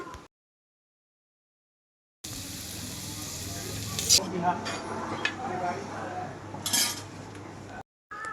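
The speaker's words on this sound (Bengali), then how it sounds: "এই তো ভাজিটাও হয়ে গেছে, এটাও আমি এখন প্লেটে উঠিয়ে নিচ্ছি" A spoon scrapes and clinks against a pan and plate as fried vegetable bhaji is served from a hot, still-sizzling pan, with short metallic clanks after a brief silence and a person talking throughout.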